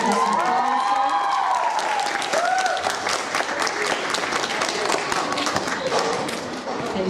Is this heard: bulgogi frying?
no